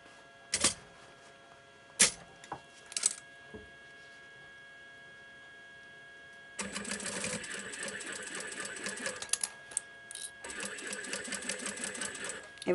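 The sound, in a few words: sewing machine stitching denim fabric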